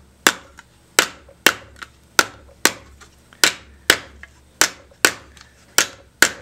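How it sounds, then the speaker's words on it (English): A copper disc is hammered into a depression to sink and raise a vessel, sharp metallic blows about every half second in a steady rhythm, each ringing briefly before the next strike, close and loud. "as I am hammering to that side of the depression"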